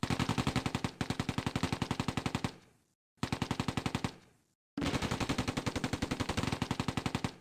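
Gunfire between a 17-pounder anti-tank gun and a Mark IV tank: loud, rapid automatic fire in three long, dense bursts separated by brief silences, with no voices.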